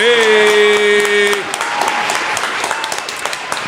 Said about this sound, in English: Let me hit the round of applause